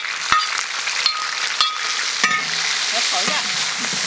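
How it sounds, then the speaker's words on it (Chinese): Chopped chili being stir-fried in hot oil in a wok, a steady bright sizzle broken by several sharp scraping clicks of the spatula, close and alone. "这剁辣椒先炒一会儿才香一点"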